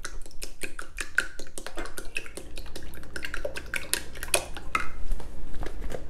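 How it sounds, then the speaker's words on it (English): Egg whites whisked in a bowl for a quick breakfast, a fast run of bright metallic clicks and taps from the whisk striking the bowl, steady and close with no talking. "whisk it up"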